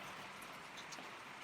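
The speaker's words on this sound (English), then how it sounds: "this is the worst rain we've had during dinner time" Heavy rain pours down outside a door, a dense, steady hiss of falling water with faint spattering, quiet and continuous for a brief moment.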